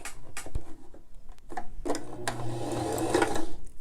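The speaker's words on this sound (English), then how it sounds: "you're going to stitch right beside that stitching line" A sewing machine stitches beside a seam line on a fabric face mask, with a few handling clicks and then a close, loud, steady whirring run of stitches lasting about two seconds.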